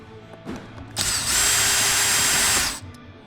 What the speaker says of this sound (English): Remove this screw.